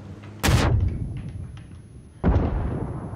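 Grenade explosions in a video game: two heavy, booming blasts about two seconds apart, each with a sharp onset and a rumbling decay, over quiet game ambience.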